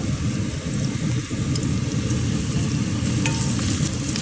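Chicken frying with onions and ginger garlic paste in a hot pan, stirred throughout: a steady close sizzle with scraping and tapping from the stirring, and no one talking.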